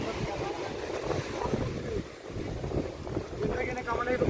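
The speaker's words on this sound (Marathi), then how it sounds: "वारा पण आहे ना इकडे समुद्रावर," Wind gusts across the microphone at Mirya beach on the sea shore, a loud rumbling buffeting with surf-like wash underneath, while someone talks over it.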